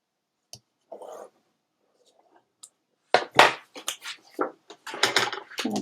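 Craft paper being folded along a score line and burnished flat, heard as a few soft rubbing and creasing strokes, quiet at first and then a denser run of short swipes, with no talk.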